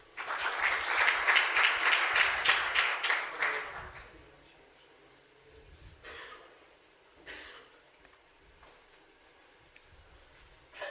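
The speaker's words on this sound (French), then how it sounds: "Merci de l'applaudir." Audience applause for the minister of vocational training and employment at an HR awards ceremony in Tunisia, a loud burst of clapping for about four seconds that fades out, followed by quiet room noise and faint shuffling.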